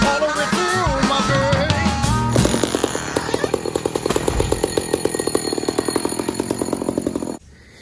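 A two-stroke chainsaw runs loud and close, revving up from a rough idle into a steady high-pitched buzzing whine before cutting off abruptly near the end.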